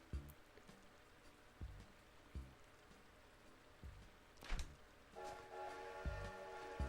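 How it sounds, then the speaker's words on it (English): A train rolling past in the GameCube Animal Crossing, faint rhythmic clacks and thumps over a soft rain-like hiss, swelling into a brighter, louder tonal rumble near the end. "That train just scared the crap out of me"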